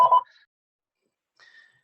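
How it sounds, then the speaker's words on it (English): A home telephone gives two short electronic ringing chirps, the first loud and clear, the second fainter after a pause of about a second, with silence around them. "that's my home phone ringing"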